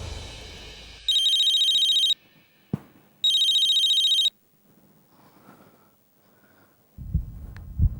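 A telephone rings in two electronic bursts of about a second each, separated by a short pause and a sharp click, followed by quiet room hum and a soft rustle at the end.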